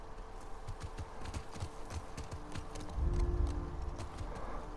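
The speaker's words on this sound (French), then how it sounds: "Hop, on descend du cheval." Horse hooves clip-clop on the ground in the video game The Last of Us Part II, a run of steady hoofbeats close by over a low ambient game backdrop, with a louder rumble near the end.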